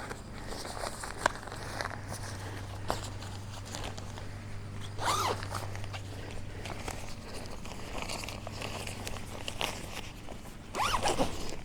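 A zipper runs along the pocket on the door of a Coleman Elite Weathermaster tent, giving a few short, close rasping pulls over a steady low hum, with the clearest zips coming in brief bursts.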